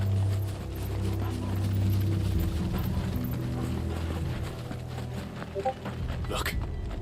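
Horses clop along in Final Fantasy XVI, a soft, even hoofbeat rhythm mixed with mechanical clicking and low game ambience under a spoken voice.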